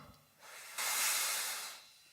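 A single long, airy inhalation swells and then fades, close and breathy with no talking.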